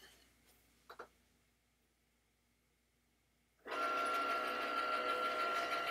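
A Cricut cutting machine begins cutting a wooden sign, starting as a loud steady mechanical whir after quiet moments with a couple of soft clicks, and running on without a break.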